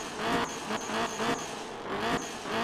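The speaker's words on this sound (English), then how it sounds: "Car sounds good though." Steady car engine drone in the video game Night Runners, with rising and falling revs, fairly loud and continuous throughout, with a slight rhythmic pulsing.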